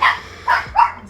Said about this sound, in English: My little dog's having another bark.